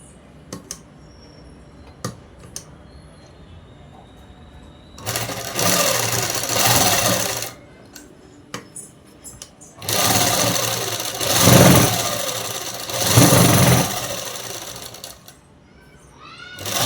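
Sewing machine stitching cloth for a French cut dress, loud whirring bursts of stitching separated by quiet pauses with small clicks and handling noises.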